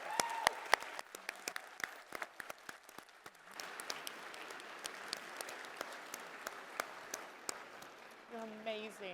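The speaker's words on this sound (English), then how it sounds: "Please give the most incredible round of applause, both versions, for our phenomenal panel." Applause from a conference crowd for a panel at the Global Conference for Israel: a quiet, distant wash of many hands with sharp individual claps standing out, and a voice briefly heard near the end.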